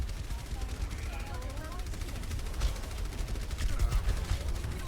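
Gunfire in the video game Overwatch, including fire at a Bastion from high ground, comes as a rapid, continuous rattle of shots with louder bursts near the end, mixed with game effects.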